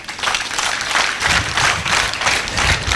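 An audience claps and applauds steadily at a school brain challenge competition, a dense, continuous wash of many hands, close and loud throughout.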